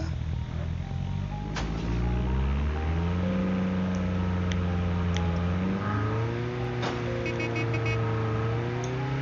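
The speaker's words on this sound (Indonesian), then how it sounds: "kita sambil cari musuh menggunakan motor saja mungkin ya. Dan suaranya itu mengerikan sekali ya." A motorcycle in a video game revs hard, its engine pitch sweeping up and down as the throttle opens and falls, loud and continuous with no talk over it.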